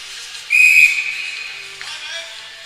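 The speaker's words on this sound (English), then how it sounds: "Whistle blows offside, so new face-off to come." A referee's whistle blows to call offside in a U16 AAA ice hockey game, a single sharp, shrill blast that rings out loudly and trails off over rink background noise.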